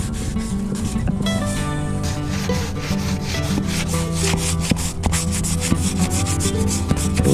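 Steady rubbing of 220-grit sandpaper on wood stripping a spar finish clear coat in a shower, continuous scratchy strokes close to the microphone with a faint rhythmic back-and-forth and no talking.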